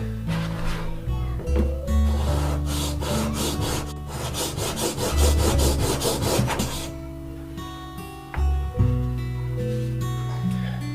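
A plane iron is ground against a sharpening wheel, giving a rhythmic back-and-forth rasping scrape that grows busier midway, heard up close over a steady low motor hum.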